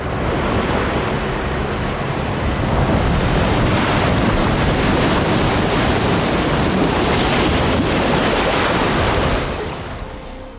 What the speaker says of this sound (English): Before we see images of Normandy, we hear the waves crashing on the beach,